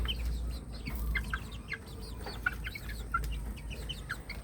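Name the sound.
chickens clucking as they are called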